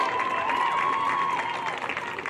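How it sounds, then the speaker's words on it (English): Audience applause for outstanding student athletes at the 2025 NE10 Field Hockey Championship, a steady, moderately loud wash of clapping with a faint whistle-like tone running through it, continuing without talk. "one last round of applause to these outstanding student athletes"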